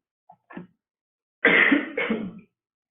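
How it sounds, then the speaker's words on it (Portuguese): A couple of faint throat sounds come first, then a loud, harsh cough in two close bursts, near and alone. "Desculpa, estou tossindo muito."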